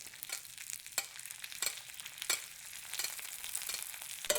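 A steak basted with hot oil in a tilted pan over the heat, a quiet hiss punctuated by rhythmic sizzling bursts as oil is spooned over roughly every half second, close and without speech.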